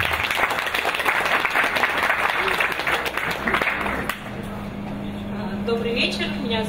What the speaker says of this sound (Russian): Подумай об аплодисменты, друзья!